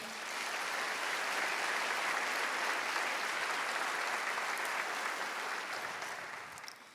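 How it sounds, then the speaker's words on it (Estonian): Gala audience at an Estonian athlete-of-the-year ceremony applauds, a broad, even roar of clapping that swells in, holds steady and fades slightly toward the end. "Suur aplaus teile kõigile."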